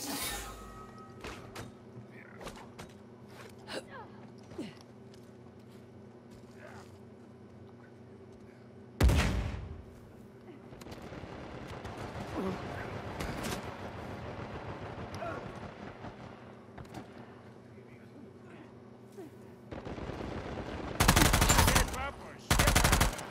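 Gunfire in Uncharted 4: A Thief's End, scattered distant shots over a low background hum, then loud close bursts and blasts near the middle and end.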